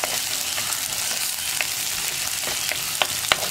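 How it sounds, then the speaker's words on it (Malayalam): Curry leaves frying in hot oil in a pan for a Kerala muringayila cherupayar curry, a steady bright sizzle with occasional scraping clicks of stirring, close and continuous. "ഇനി കറിവേപ്പില ഒന്ന് ലൈറ്റായിട്ട് കളർ ചേഞ്ച് ആയി വരുന്നത് വരെ നമ്മളൊന്ന് ഇളക്കി കൊടുക്കാം."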